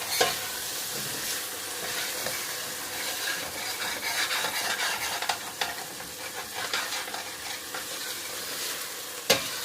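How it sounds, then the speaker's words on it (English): Cauliflower and potato curry stirred in a hot pan: a steady close sizzle runs throughout, with scraping stirs and a sharp utensil clack near the end. "Give it a stir"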